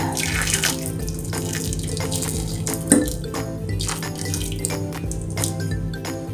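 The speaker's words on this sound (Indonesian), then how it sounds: "Seduh dengan air mendidih." Boiling water is poured over a plucked chicken to loosen the remaining feathers, a continuous splashing, trickling stream close by with a brief clink of a pot partway through.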